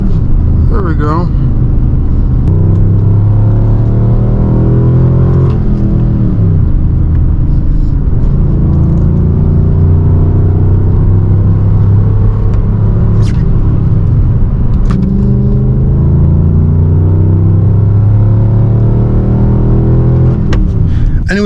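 A Dodge Charger RT drives along with a steady, loud low engine rumble and road noise throughout, the pitch shifting gently as it accelerates and eases off, with no speech heard.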